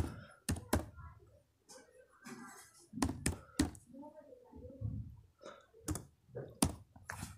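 Command typed on a computer keyboard while setting up a bootable Kali Linux USB drive, with quick bursts of close, crisp key clicks and a few heavier thunks between pauses, alongside a quiet voice speaking.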